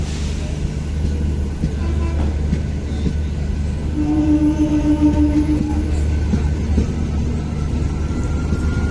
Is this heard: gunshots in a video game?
no